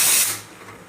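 A pressure cooker cooking rice lets out a loud, close steam whistle hiss that peaks and then tapers off within a second.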